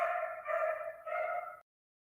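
Dogs reacting to an unexpected visitor, three drawn-out whining barks in quick succession, moderately close, then silence.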